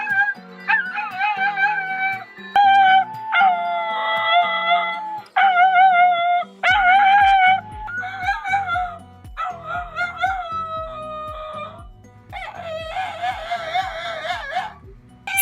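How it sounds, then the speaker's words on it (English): A dog howls over and over at close range, long wavering howls broken by short yips and whimpers, with no one talking. "his howls could be heard for miles."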